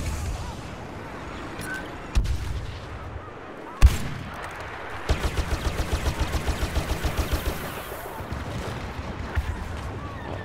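Blaster pistol fire in Star Wars Battlefront, a few isolated loud shots early, then a rapid even string of repeated shots, with game noise rumbling underneath.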